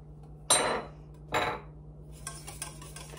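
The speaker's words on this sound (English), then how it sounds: "Whisk that in." A whisk clanks twice against a bowl while plain white vinegar is worked into a sweet and sour sauce mixture, followed by a few lighter taps and scrapes, all close and fairly quiet.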